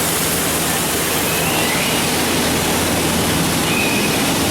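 Steady, full rushing roar of water from a waterfall seen from behind on a Jungle Cruise ride, continuous and close with no talk.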